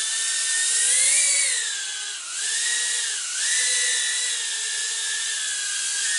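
A BWHOOP B-03 Pro micro drone hovers close by with a steady high-pitched propeller whine, its pitch dipping twice as it yaws at rate 1, alone without talk.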